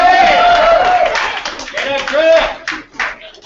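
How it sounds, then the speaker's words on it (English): Audience applause at an open mic night, clapping and cheering mixed with loud overlapping voices and whoops for several seconds before thinning out. "Round of applause for that"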